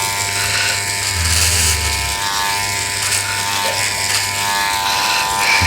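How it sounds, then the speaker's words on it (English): Electric hair clipper fitted with Freestyla guides buzzing steadily up close while cutting a boy's hair, its pitch dipping briefly as it bites into the hair; no talk. "yeah, that's the clipper"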